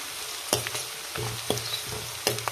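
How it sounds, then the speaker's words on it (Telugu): Peanuts and onions frying in oil on a medium flame for lemon rice, a steady sizzle broken by several sharp stirring clatters spread across the short clip, with no talk. "సో మనం ఇవి మీడియం ఫ్లేమ్లో పెట్టుకొని ఫ్రై చేసుకోవాలి"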